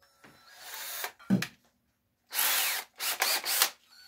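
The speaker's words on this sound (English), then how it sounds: "That drill bit is actually walking." A power drill with an old, loosely held heavy drill bit runs in short bursts: a brief whir, a pause, then a longer high whine followed by several quick revving pulses, close and fairly loud.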